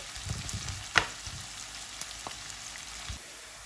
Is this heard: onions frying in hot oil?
yes